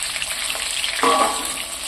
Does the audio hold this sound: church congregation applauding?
no